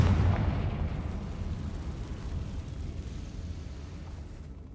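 A Confringo spell explosion in Hogwarts Legacy, one heavy rumbling boom that hits loud at once and then decays into a long, low, fading roar.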